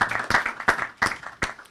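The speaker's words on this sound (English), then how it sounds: "So just give yourselves all a round of applause." Applause from an audience at a City of New York Veteran Advisory Board meeting, with a few sharp, close claps standing out from a softer patter of clapping in a brief burst.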